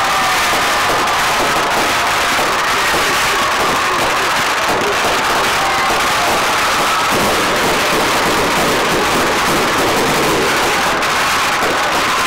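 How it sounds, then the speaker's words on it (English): Fireworks going off at a homecoming celebration after a high school football game between the Preston Indians and Canyon Ridge, heard as a dense, continuous outdoor crackle and rumble of bursts at moderate distance for the whole stretch, with no talk over it. "we'll watch fireworks too"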